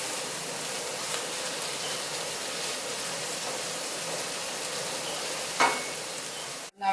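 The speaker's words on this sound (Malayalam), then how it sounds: "ഒരു 3-4 മിനിറ്റ് നമുക്കിത് വഴറ്റാം." Onions sautéing in a pan for chicken vindaloo, a steady, even hiss of frying that carries on close and unbroken, with one brief clink near the end before a sudden stop.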